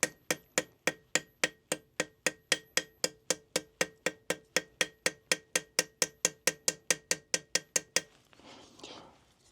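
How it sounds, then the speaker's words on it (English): A planishing hammer taps a piece of fold-formed metal in a fast, steady run of about thirty light, ringing blows, close and clear, then stops, leaving faint handling noise. "I can do this with a planishing hammer. Very, very light blows."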